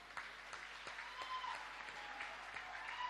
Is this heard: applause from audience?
yes